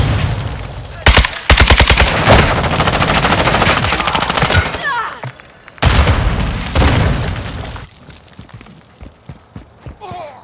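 Kastov 762 rifle fire in Call of Duty: Modern Warfare 2 on the Crown Raceway map, loud sustained automatic bursts with booming reports, a short break, then another burst followed by scattered shots.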